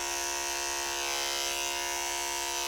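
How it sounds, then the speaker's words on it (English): An electric hair clipper buzzing steadily through straight hair during a fade, a close constant hum with a bright whine and little change over the short stretch. "I'm attaching the clipper to the comb"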